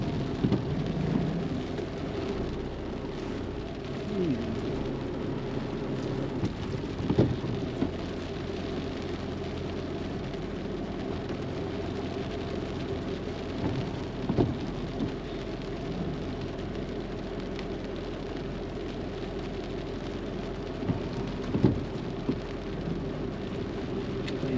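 Heavy rain pours steadily in Barangay Vista Alegre, with several low rumbles of thunder rolling in at intervals over the constant downpour; no one speaks.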